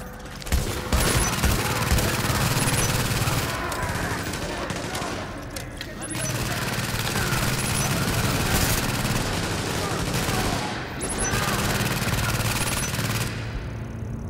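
Heavy, continuous shooting fills a video game shooting gallery, with loud dense bursts that briefly pause near the middle and again toward the end.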